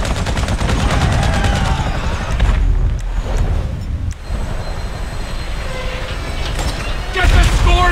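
Gunfire in the video game GTA V during a heist, with bursts of shots and a rumbling, train-like roar in a busy mix, partly under someone talking.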